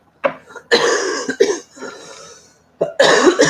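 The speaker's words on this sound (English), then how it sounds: "I need to get rid of this stinking cough" A person coughs several times in rough, throaty bursts, close to the microphone, with brief pauses between them.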